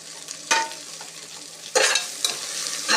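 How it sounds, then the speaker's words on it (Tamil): Finely chopped mint, coriander leaves and onions sizzle steadily in a pan for prawn biryani, with a few sharp scraping stirs cutting through the frying. "நல்லா பொடியாக நறுக்கிட்டு அதில் போட்டு நல்லா வதக்குங்க."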